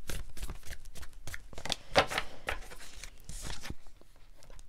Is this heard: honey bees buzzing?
no